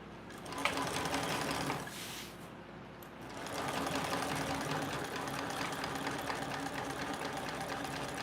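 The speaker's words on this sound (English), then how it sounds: "Back stitching." A sewing machine back stitching fabric runs in a continuous steady whir, with a brief dip and lull near the start before the motor picks up again and hums on to the end.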